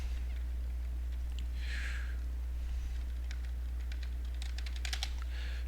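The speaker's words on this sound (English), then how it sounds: "Multibox typing!" Rapid computer keyboard typing while multiboxing many game characters at once, bursts of clicky keystrokes in uneven flurries, close and fairly quiet over a constant low electrical hum.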